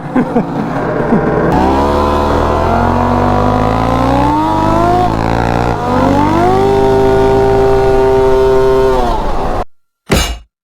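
A triple two-stroke swapped lawn tractor races a Honda 400EX quad, with loud, high-revving buzzing engines climbing and shifting in pitch close by, ending in a sudden cutoff.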